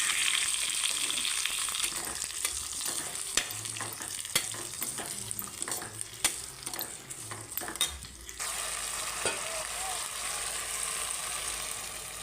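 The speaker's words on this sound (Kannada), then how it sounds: "ಈಗ ಇದಕ್ಕೆ ದೊಣ್ಣೆ ಮೆಣಸಿನಕಾಯಿ ಮತ್ತು ಟೊಮೆಟೊವನ್ನು ಸ್ವಲ್ಪ ಹಸಿ ವಾಸನೆ ಹೋಗುವವರೆಗೂ ಹುರಿದ್ಕೊಳ್ಬೇಕು" Capsicum and tomato sizzle steadily in a hot pan for bisibele bhat, with scraping stirs and a few sharp clinks of a spoon against the metal.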